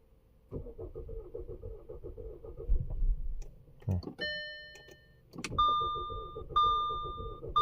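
A 2012 Audi A4 2.0T engine with a misfire and suspected compression problem cranks and starts roughly, stumbling and uneven, with clicks and a chime sounding over the running engine.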